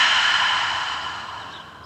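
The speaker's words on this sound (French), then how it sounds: "Expire par la bouche." A long, steady exhale through the mouth during a yoga breathing cue, a broad airy hiss that starts full and slowly fades over about two seconds, close and alone.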